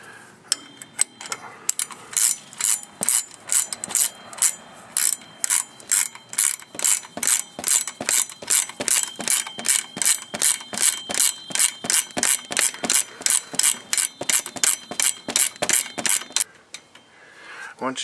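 A ratchet cranks down the front shock nuts on a 1996 Toyota Tacoma, giving a long, steady run of crisp, close clicks at an even pace for about eighteen seconds.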